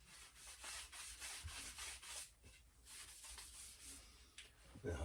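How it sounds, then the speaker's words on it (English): Sandpaper rubbing over wooden fireplace trim on a narrowboat, a steady scratchy back-and-forth friction that swells and eases in repeated strokes, fairly faint and close, with no talking. "So I'm just going to sand it down and put a bit of varnish on it."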